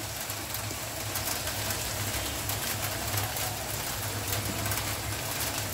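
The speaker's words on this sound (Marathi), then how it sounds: "बाहेर मस्तपैकी पाऊस लागतोय" Steady rain hisses outside, constant and fairly soft, with a faint low hum in the background.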